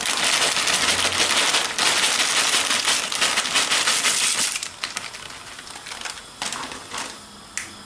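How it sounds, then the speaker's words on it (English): Two bags of dry pasta poured into a pan: a dense, loud rattling cascade of hard pieces for about four seconds, then thinning to scattered clicks and small clatters as the last pieces settle. "both bags of pasta in the pan"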